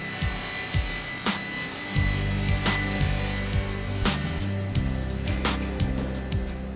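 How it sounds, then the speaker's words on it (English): An encased circular rip saw cutting timber to uniform size in a joinery workshop, with a steady low machine drone and repeated sharp cutting bursts over several seconds. "an encased circular saw cuts the timber to a uniform size"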